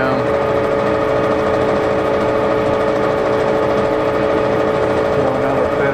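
A 1960 Clausing Colchester 15x48 lathe running at about 640 RPM, a steady mechanical hum and whine with tonal drone, close and continuous with no pauses.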